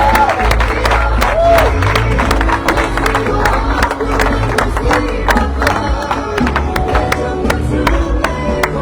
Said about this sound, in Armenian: քաղաքացիական պայմանագիր կուսակցությունը ջերմորեն եւ բուռը ծափերով ողջունում է ձեզ